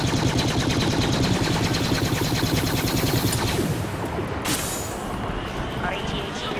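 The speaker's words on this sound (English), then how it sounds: "shotgun to the face" Gunfire in a Star Wars Battlefront battle, with a shotgun blast in a dense, continuous rattle of rapid shots and blasts, loud and close, with a voice underneath.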